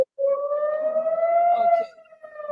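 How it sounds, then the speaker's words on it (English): Air raid sirens wail in a steady rising-and-falling tone during wartime in Israel, with jets in the air, loud and sustained with a faint rumble underneath, no talking. "those are sirens behind me and jets in the air."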